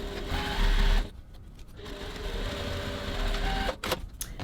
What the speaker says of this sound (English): now we're going to go over to the sewing machine and stitch that seam 6mm 1/4 inch from the edge